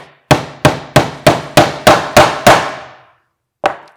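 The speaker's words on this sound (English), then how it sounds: "and then we'll hammer the nail off" Hammer blows drive a nail into a wooden planter box: eight sharp, evenly spaced strikes in quick succession, close and loud, then a short pause and one final hit.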